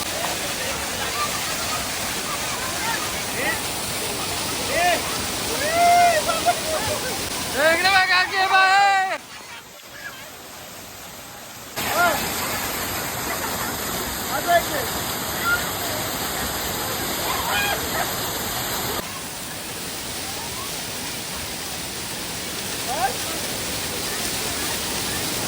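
Savdav Waterfall in Sindhudurg roars with a continuous broadband rush of falling water, loud and close, with a brief break midway and faint voices mixed in.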